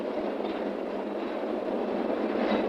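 A PATH commuter train runs on its rails during construction of the World Trade Center in 1972, a steady loud rumble and roar with no pauses and no voices.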